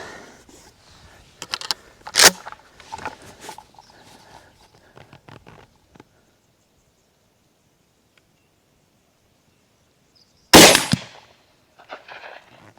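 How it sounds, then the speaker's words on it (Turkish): A Winchester SXP pump-action shotgun fired at a target outdoors, with two loud sharp blasts several seconds apart among quieter handling clicks and rustles. "Winchester pompalıyla atışımız da bu şekilde."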